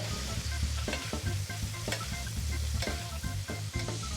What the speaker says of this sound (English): And once that butter melts, then you can start basting this whole thing.